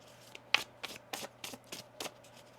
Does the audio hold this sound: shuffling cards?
yes